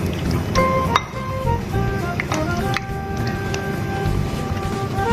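Fresh cream and fruit cocktail mixed in a bowl with a spoon, wet squelching and soft clinking strokes repeating close up at a steady pace.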